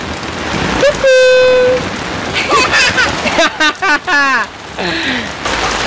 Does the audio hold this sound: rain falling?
yes